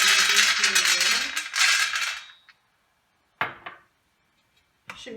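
Raw almonds being tipped into a pan for roasting, heard as a loud, dense rattling pour lasting about two seconds, then a few separate close clatters after pauses.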